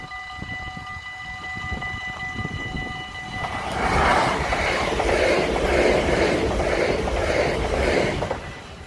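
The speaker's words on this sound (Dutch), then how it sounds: "spoorwegovergang is naar beneden, dus dat betekent dat er weer een mooie trein aankomt. De SNG" An SNG train crosses a lowered level crossing. Steady bell tones ring first, then the loud rumble and rhythmic clatter of passing railcars fills the rest, heard close and strong.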